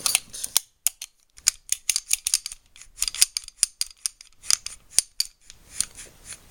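A freshly oiled Rock Island 1911 Tactical pistol has its slide worked repeatedly, giving a brisk series of sharp metallic clicks and slick sliding snaps, close and alone in quiet.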